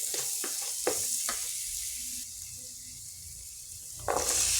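Ingredients for a chundakkai kuzhambu sizzle and fry in a pan, with a few sharp stirring clacks early on, then a steady hiss that swells louder near the end.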